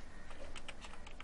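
Typing a passenger name on a computer keyboard during online railway ticket booking, a quick run of soft, close key clicks heard alone.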